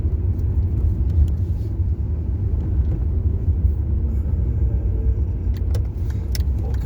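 Steady low road rumble fills a car's interior while driving, a continuous loud drone with faint occasional rattles and clicks, no talking.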